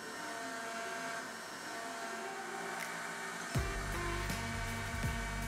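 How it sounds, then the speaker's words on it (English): A CNC machine cuts partially annealed aluminum under a steady mechanical whine and motor hum, and the sound grows louder and heavier partway through as the cutter bites in, droning on continuously at a moderate distance. "No real drama machining the aluminum"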